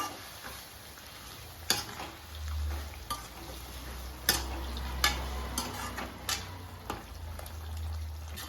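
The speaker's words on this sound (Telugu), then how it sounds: "ఉడికిన లివర్ను ఇందులో గ్రేవీలో వేసి మంచిగా కలుపుకుందాం. హై ఫ్లేమ్లో పెడదాము" Chicken liver stirred into gravy and frying on a high flame, with a steady close sizzle broken by scattered sharp spoon scrapes and clinks against the pan, no voices.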